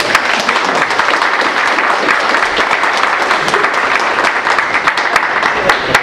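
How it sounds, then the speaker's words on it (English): An audience at a state board of education meeting applauding students, loud continuous clapping from a room full of people, close and dense for the whole stretch. "Let's give them a big round of applause."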